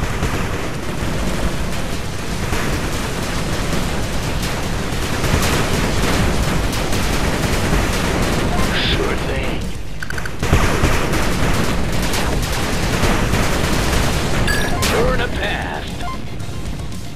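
Dense, continuous gunfire and explosions rumble throughout as a cannon turret comes under attack in the video game 8-Bit Armies, a chaotic battle din with bursts and booms layered on top of one another.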